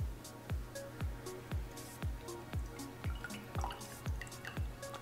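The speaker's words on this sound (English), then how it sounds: "You can add just a little bit of lemon juice or white vinegar." Lemon juice or white vinegar falls drop by drop into milk to make buttermilk for homemade biscuits, about ten small drips landing in a steady, evenly spaced rhythm, close and clear with no talk.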